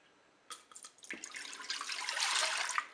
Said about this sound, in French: On verse le lait dans la cuve.